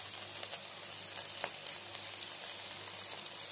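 Chicken pieces for pepper chukka hit a hot pan and sizzle steadily, a close, bright hiss with a few crackles and pops and no talking.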